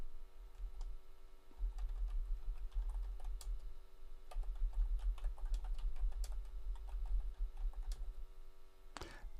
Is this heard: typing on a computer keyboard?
yes